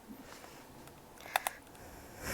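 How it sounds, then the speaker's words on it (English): A golden lighter's lid snaps twice in quick succession, two crisp close clicks standing out against a quiet background. "I play with the lid on my golden lighter. It makes the most satisfying clicking noise."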